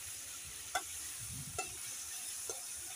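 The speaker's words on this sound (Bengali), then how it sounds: "মাছ দিয়ে দিলাম, দিয়ে আবার একটু ভালো করে নেড়ে" Small fish frying in a pan, a quiet constant sizzle punctuated by three soft spatula taps and scrapes spaced about a second apart.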